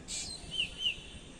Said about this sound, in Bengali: পাখির ডাক শুনতে পাচ্ছেন আমার বাসা থেকে খুব সুন্দর পাখির কিচিরমিচির আওয়াজ পাওয়া যায়